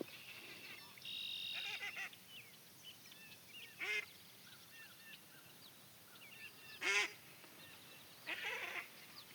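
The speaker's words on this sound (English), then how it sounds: "I hear a duck quacking." Mallard ducks quacking outdoors near a patio, faint, scattered calls in several short bursts over quiet ambience, with a few louder quacks standing out.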